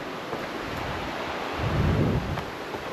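Flowing water of the Kennebec River at Caratunk, Maine, a steady broadband rush that swells slightly midway, with wind buffeting the microphone outdoors and no voices.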